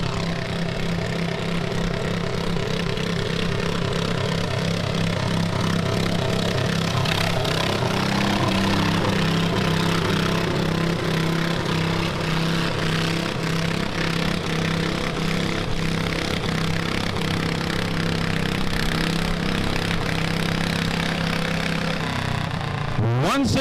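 A garden tractor engine strains at a tractor pull, a loud, steady mechanical drone whose pitch slowly rises and shifts over a long run, then drops away abruptly at the end.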